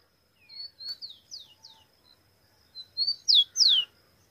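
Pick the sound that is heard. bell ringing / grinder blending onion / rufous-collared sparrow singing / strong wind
rufous-collared sparrow singing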